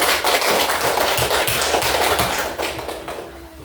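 A classroom of children claps hands together, a dense patter of many quick claps that holds steady before thinning and fading toward the end.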